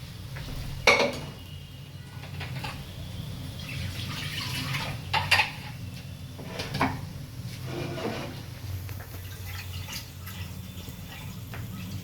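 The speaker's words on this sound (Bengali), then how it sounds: "দাঁড়াও, এটা একটু জল দিয়ে নিই।" Water is poured into a metal pressure cooker while sago khichuri is being made. A low, steady wash of pouring sits under several sharp metallic clanks and taps from the pot.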